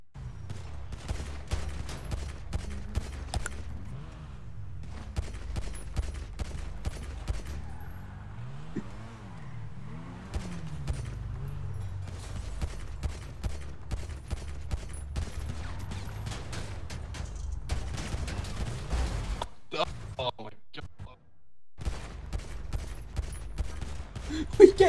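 Bursts of rapid automatic gunfire in GTA RP, loud and repeated in clusters across the stretch, mixed with a car engine revving and some voices talking.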